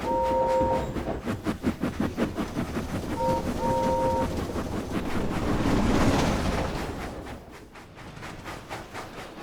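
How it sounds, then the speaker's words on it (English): A steam engine chugs in a steady, rapid rhythm, with two brief whistle toots over the rumbling puffs. "Toby steamed slowly through Sodor."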